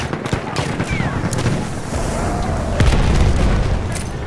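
Battlefield 1 grenade blast amid a steady din of gunfire and booms, with a heavier low thud near the end under a dense, continuous battle roar.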